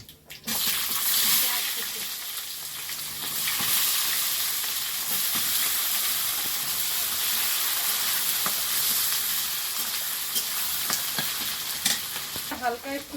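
Whole cumin and bay leaf fry in ghee for a chicken biryani, giving a continuous loud sizzle and crackle with occasional stirring scrapes and light spattering, heard close throughout.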